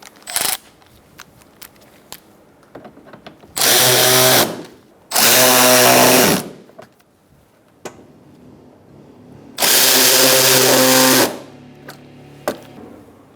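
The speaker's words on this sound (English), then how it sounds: "Now we're going to tighten them all down." A power tool runs on bumper bolts of a 2012-2018 Ford Focus during an impact absorber replacement, three loud whirring bursts of about one to two seconds each, separated by quiet gaps with small clicks.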